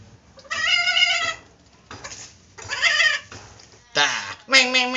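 A cat meows repeatedly while being fed, four or five drawn-out, close and loud cries separated by short pauses, with a person talking softly in between.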